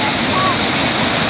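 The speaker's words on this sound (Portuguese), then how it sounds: "Ao lado dessa cachoeira linda aqui, ó." The Cachoeira do Prata waterfall roars as a loud, steady rush of falling water, filling the whole short stretch without a break.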